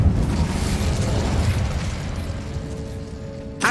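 Incendio fire spell cast in Hogwarts Legacy during a spider fight, a roaring whooshing burst of flame with rumbling low end that fades out, then a sharp final pop.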